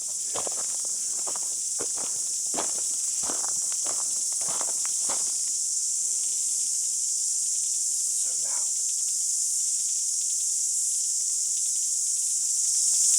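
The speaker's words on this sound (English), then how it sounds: "Those cicadas must have pretty big wings." At Long Bay, Coromandel, New Zealand, a steady, high-pitched cicada drone fills the whole recording without a break, while crunching footsteps pass close by during the first few seconds.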